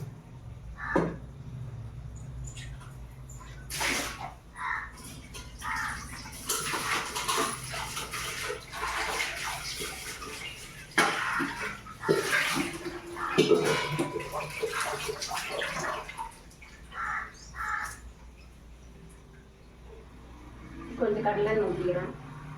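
Mutton pieces are washed in hot water with turmeric: splashing, sloshing water and handling noises in bursts, with a person talking intermittently over the kitchen sounds.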